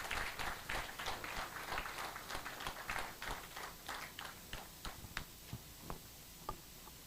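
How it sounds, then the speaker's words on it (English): An audience at a live-streamed foundation session applauds the team on stage, many hands clapping at first and then thinning to a few scattered, fading claps. "ask the audience to give the team on the stage a round of applause"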